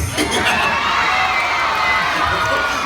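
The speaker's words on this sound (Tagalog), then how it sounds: "Dahil malakas ang palakpak nyo," Loud, sustained cheering and shouting from a large crowd of students at a city meet opening ceremony at Malolos City Hall, a continuous roar with whoops throughout.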